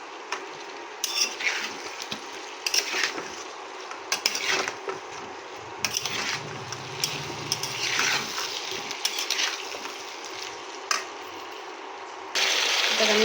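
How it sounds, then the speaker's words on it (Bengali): Vegetable stems and potatoes stir-fried in a pan, with a moderate sizzle and repeated scraping and clinking of a utensil against the pan at an irregular pace. "শুধু ডাঁটাগুলো দিয়ে আলুর সঙ্গে আমি একটু কষিয়ে নেব।"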